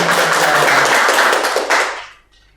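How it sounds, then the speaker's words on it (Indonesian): A classroom claps together for a student, a short dense burst of hand claps that holds for about two seconds and then dies away quickly. "Boleh tepuk tangan untuk Mbak Leni dan saudara lain."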